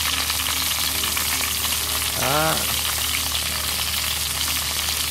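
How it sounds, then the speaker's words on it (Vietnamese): Pieces of snake deep-frying in hot oil for a Vietnamese dish, a loud, dense, continuous sizzle and crackle close up, with a short spoken word partway through. "Thì cân mấy con rắn này chiên là cho nó giòn luôn nha"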